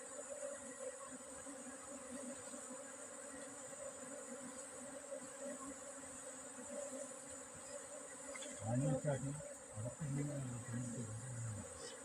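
A dense, steady drone of a honeybee swarm on a tree branch, being gathered into a hive box, buzzing together throughout, with a brief voice speaking near the end.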